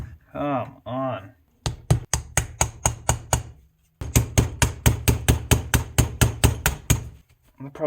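Repeated hammer blows on a Foxbody Mustang steering rack: a loud, close, sharp metallic series of strikes in two quick bursts, coming after a short stretch of talk.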